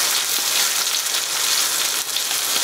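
Onions frying with cumin seeds in a hot pan give a steady, bright sizzle that hisses continuously and close at hand, with a slight dip near the end and no voices.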